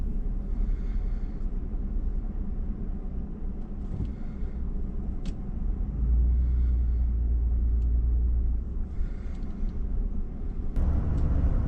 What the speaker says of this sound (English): By 8:05, I'm moving quickly on the freeway in my truck